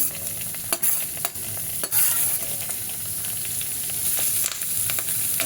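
Thinly sliced onions fry in a pan for an Andhra cabbage tomato curry, a steady close sizzle broken by several sharp scrapes and knocks of a ladle stirring against the pan.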